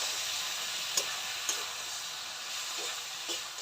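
Spice paste with coriander powder and a splash of water sautéing for a fish curry, a steady loud sizzle with a few sharp spoon clinks against the pan, no voices.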